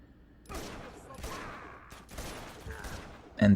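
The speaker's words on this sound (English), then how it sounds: "you have to shoot the lock and then" Gunshots fired at a lock in the video game Uncharted 2, with sharp bursts near the end of the clip over faint background game sound and a speaking voice.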